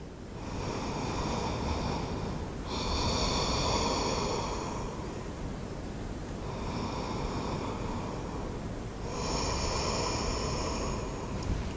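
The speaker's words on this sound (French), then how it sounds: "Et ici, on prend 2 belles respirations." Deep, slow breaths taken while holding a yoga bridge pose, sounding as several long airy inhales and exhales close to the mic, each swelling and fading in a steady rhythm with no talking.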